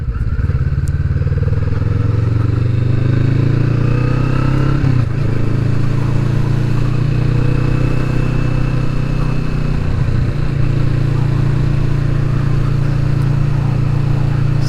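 Kawasaki Vulcan S cruiser motorcycle, a 2020 model, riding steadily through a village at about 30 mph, its engine droning loud and close throughout with a continuous low rumble and a couple of brief dips over bumps.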